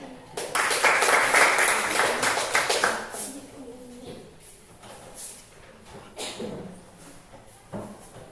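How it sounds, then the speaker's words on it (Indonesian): A classroom group gives a burst of applause for a geometry presentation group. The clapping is dense for about three seconds, then fades into scattered claps and light room noise. "Tepuk tangan untuk kelompok geometri."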